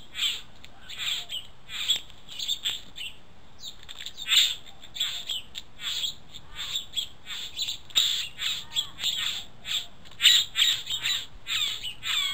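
A blackbird calls repeatedly outdoors with sharp, harsh chattering notes in irregular bursts, fairly close and moderately loud over faint background hiss, with no voices.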